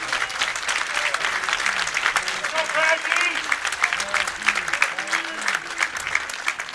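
Sustained crowd applause with cheering fills the arena at a PBA bowling stepladder final, dense and steady throughout with faint voices mixed into the clapping.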